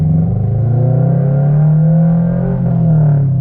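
Toyota GR86 slowing down during brake bedding, a loud steady engine drone close up inside the car, its pitch dipping slightly as it decelerates.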